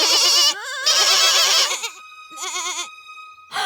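Several young goats bleat in wavering, quavering cries, loud and close, in bursts separated by brief pauses.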